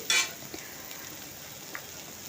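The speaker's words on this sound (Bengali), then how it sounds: "এরপর একটু কাঁচা গন্ধ চলে যাওয়া পর্যন্ত পেঁয়াজগুলো একটু নরম করে নিচ্ছি" Chopped onions softening in hot oil, a faint steady sizzle after a short sharp clatter at the start, with a couple of light utensil taps.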